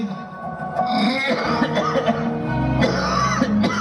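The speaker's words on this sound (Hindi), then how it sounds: "दिन भर बस खांसते रहते हैं।" An elderly father coughs at home, with dense, noisy bursts recurring over a cluttered background of voices and room sound across the whole stretch.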